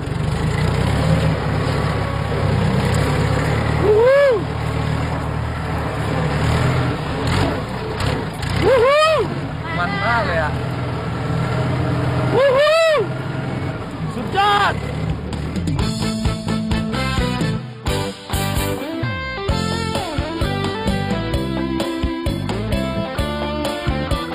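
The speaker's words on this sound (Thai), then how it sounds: "หนูได้ขึ้นรถไถอ่ะเหอขับรถไถด้วยอ่ะ" A farm tractor engine runs steadily and loud throughout a ride in rural Thailand, with people shouting and cheering over it and the engine note rising and falling as it drives.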